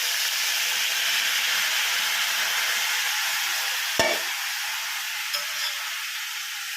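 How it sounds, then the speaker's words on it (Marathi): Brinjal fries in oil in a pan with a constant crackling hiss, broken by a sharp clank of a utensil partway through. "ती छान अशी परतून घेणार आहोत तेलावर"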